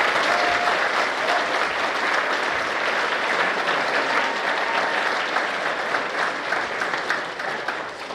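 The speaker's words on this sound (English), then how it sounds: "So a big round of applause for Fenton." Steady audience applause at a show, a dense wash of clapping holding evenly throughout without voices.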